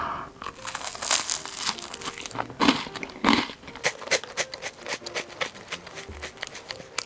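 Someone eats a crunchy salt bread rusk from a Bomnari bakery, with loud bag crinkling and crisp bites close to the mic and no talking.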